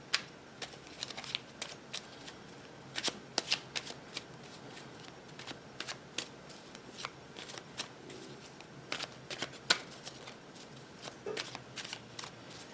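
Tarot cards being shuffled over and over, with crisp riffling bursts and soft slaps repeating irregularly, close and fairly loud.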